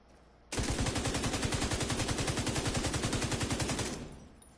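Light machine gun fire in The Division 2 during a PvP fight: one loud, close, continuous automatic burst of about three and a half seconds with an even, rapid rhythm, no voices.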